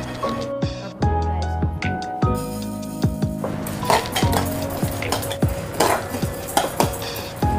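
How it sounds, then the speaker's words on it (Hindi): Brown rice dry-roasting in a pan as a metal spoon stirs it, giving repeated scraping clinks and clatter against the pan in an uneven rhythm, loud and close. "हम लगातार इसे चलाते रहेंगे ताकि ये जले नहीं"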